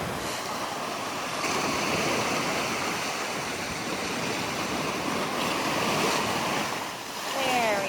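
Ocean surf roars steadily at Salt Creek near Sequim, a broad wash of breaking waves with gusts of wind, and a brief voice near the end.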